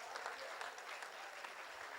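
An audience at a Hindi poetry gathering, a kavi sammelan, breaks into steady applause, a dense even wash of many hands clapping, moderately close and continuing without pause.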